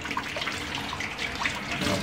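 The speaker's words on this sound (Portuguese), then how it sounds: "Deixa a água passar por dentro," Water from a sink tap pours through the body of a recorder flute being washed, a steady loud splashing and gurgling stream that runs continuously without speech.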